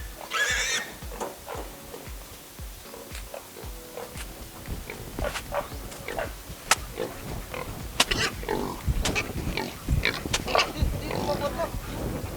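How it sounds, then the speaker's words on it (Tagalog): Pigs squealing and grunting while being loaded onto a truck for transport from Leyte to Manila, with scattered animal cries, clatter and handling noises building in density over time, and people talking in the background. "paano nila ikinakarga yung mga baboy papuntang truck"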